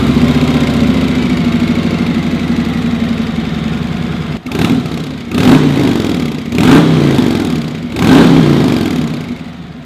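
A Harley-Davidson touring motorcycle with its stock exhaust idles with a low, steady burble, then gets four sharp throttle blips, each a short rising rev that falls back to idle.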